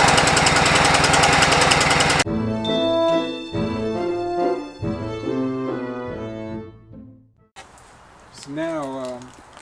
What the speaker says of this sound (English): Now I'm going to use the lawnmower and cut the grass